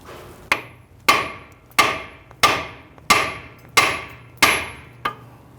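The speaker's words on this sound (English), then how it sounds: "I'm going to use my hammer. I'm going to strike the knuckle right here" A hammer strikes the steel steering knuckle of a 2011-2017 Nissan Quest seven times at a steady rhythm, each sharp metallic bang ringing out briefly, close and alone.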